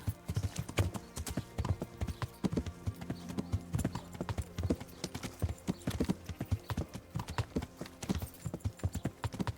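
A horse's hooves clip-clop in a steady walking rhythm, close and moderately loud, in the video game Kingdom Come: Deliverance, with a faint snort or whinny in the background.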